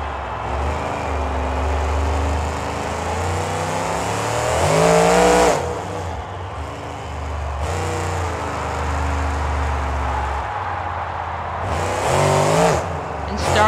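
Monster truck engine revving in a Monster Jam game, a sustained loud engine drone with several sharp surges in pitch, no talking over it.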